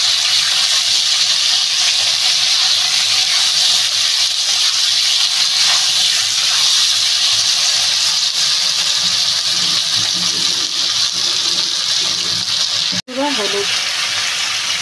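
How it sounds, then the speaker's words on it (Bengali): Potatoes frying in a pan for a katla carp and potato curry give a loud, steady, close sizzle throughout, with a brief clatter near the end. "আলুটা ভালো করে একটু ভেজে নেবো"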